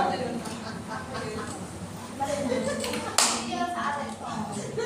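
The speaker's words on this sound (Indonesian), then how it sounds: "beri tepuk tangan untuk kalian semua" Classroom students clap together during a micro-teaching lesson, a burst of hand claps under ongoing chatter and a teacher's voice, with a sharper loud clap near the end.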